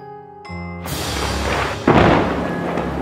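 Thunder in a storm breaks in suddenly over a fading tone, swelling into a loud, sustained rumble, with a second heavier crack and roll partway through.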